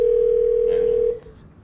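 Telephone dial tone heard while calling a phone: a single loud, steady pure hum that holds for about a second, then cuts off and leaves faint room noise.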